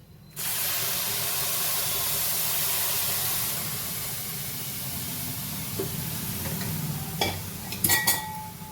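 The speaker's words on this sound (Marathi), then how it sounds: "आता हे उकळतं पाणी मी याच्यात घालते" Boiling water poured into a hot pan, bursting into a loud, sustained hissing sizzle that holds steady, then a few clattering stirs near the end, no voices.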